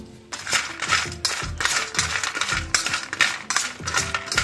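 Roasted masala peanuts rattling in a pan, a dense, loud, close clatter of many small hard kernels rolling and ticking against the metal in repeated shaking surges.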